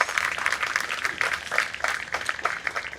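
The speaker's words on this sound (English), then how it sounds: "Big round of applause for our committee members" An audience at a 9/11 commemoration ceremony applauds its committee members, a dense, steady patter of many hands clapping at a middle distance for the full stretch.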